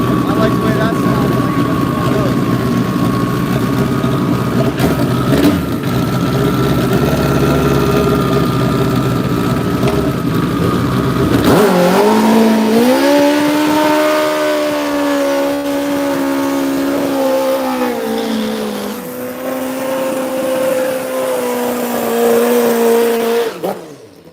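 Large Pro Street drag racing streetfighter motorcycle engine revs loudly, then launches down the drag strip with a rising, gear-shifting roar that holds near and strong before dropping away, while a commentator talks over it.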